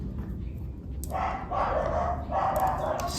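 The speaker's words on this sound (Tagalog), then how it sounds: "Medyo maingay yung mga aso dito." Several dogs bark in bursts at a moderate distance, three clusters of yapping barks over a steady low background hum, with no talking.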